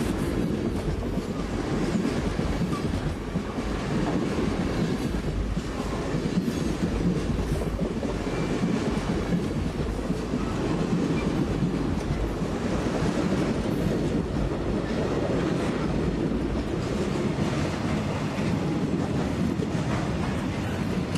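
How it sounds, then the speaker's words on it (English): Amtrak's northbound Auto Train passes a grade crossing just south of Bostwick on the Florida mainline, a loud, close, continuous rumble of railcars with steady clickety-clack and some wind buffeting the microphone. "the northbound auto train."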